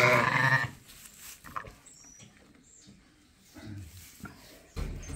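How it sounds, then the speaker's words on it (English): A newborn lamb on a sheep farm gives a loud, harmonic bleat at the start, then faint rustling follows, with a person speaking softly nearby. "So this morning we've got another lamb here."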